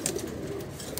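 A pigeon, one of several old-breed birds kept in a loft, gives a soft, low coo close by, brief and alone against quiet background.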